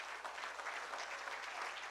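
Continuous applause from a church congregation, steady and somewhat distant, with no pauses.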